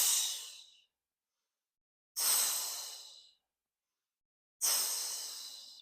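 Three sharp, forceful exhales from a person doing Pilates leg circles on a mat, each a close breathy rush that tapers off, separated by short silences.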